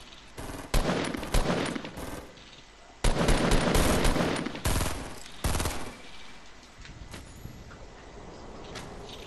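Loud bursts of automatic gunfire in Fortnite, several sharp rapid volleys separated by short pauses, the last bursts trailing off into quieter ambience.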